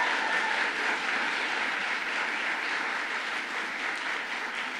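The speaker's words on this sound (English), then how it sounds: "So let's give her a round of applause for all the work she does." A crowd applauds at a New York governor's bill signing on school zone speed cameras, a loud, sustained roar of many hands clapping that stays even and close, slowly easing off toward the end.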